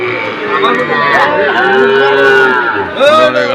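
Calves mooing at a rural cattle market, several loud, close, drawn-out bleating moos overlapping one after another.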